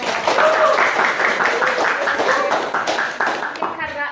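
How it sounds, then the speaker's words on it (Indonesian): An audience at a campus talk on balancing academics and achievement claps loudly and steadily, with a few brief voices and cheers mixed into the applause. "Oke, tepuk tangan buat kita semua dong."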